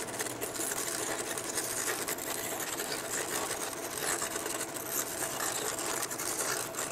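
A saw cuts steadily around the outline of a pattern for a dishwasher magnet, making a continuous, close, buzzing whir that holds an even level throughout with no pauses and no talking.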